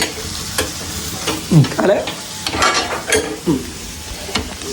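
Food sizzles and spits in a hot pan close up, with scraping stirs and sudden sharp pops every second or so.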